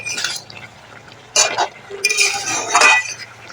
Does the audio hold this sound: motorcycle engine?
no